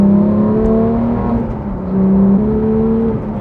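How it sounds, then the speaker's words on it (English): A manual Porsche 911 GT3 (991.2) fitted with a Soul exhaust pulls hard through the gears, its loud, close engine tone rising, dipping at a shift, then climbing again. "this Soul exhaust sounds incredible"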